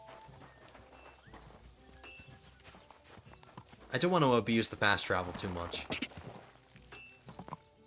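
Horse hooves clip-clop in a Kingdom Come: Deliverance 2 riding scene, with steady rhythmic hoofbeats under someone talking, joined midway by a loud horse whinny and faster galloping.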